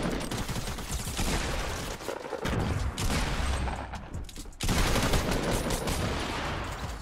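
A heavy shotgun fires in a video game during a fight, a loud, dense barrage of blasts and action noise running almost the whole way through with no talking.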